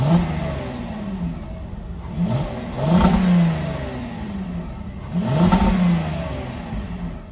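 A 2022 Volkswagen Atlas Cross Sport SEL R-Line's 3.6-liter V6 revs three times in a row, each rise swelling to a loud roar and falling back to idle, with no talk.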